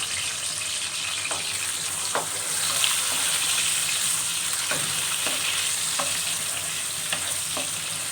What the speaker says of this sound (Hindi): प्याज को हम सौते कर लेंगे,